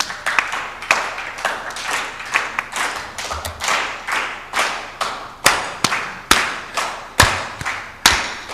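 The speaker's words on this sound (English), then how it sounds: "a round of applause to all the speakers" A small audience claps for conference speakers at an agricultural policy meeting, with sparse, uneven hand claps and sharp slaps building into a steady rhythm, fairly close and clear, with no voices.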